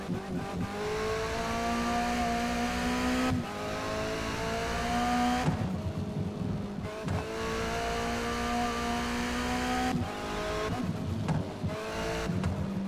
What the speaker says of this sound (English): It just shows how much power this car has got.